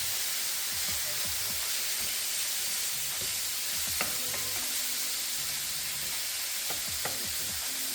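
Pork sitting in a single layer in a hot pan for a stir fry, giving a steady close hiss and sizzle with occasional small pops and faint clinks, no talk.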